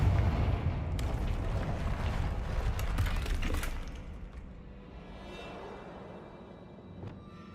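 Bombarda and Confringo explosive spells cast in Hogwarts Legacy: a burst of loud crackling blasts and rumbling debris, with sharp cracks scattered through the first half before fading into a quieter low tail.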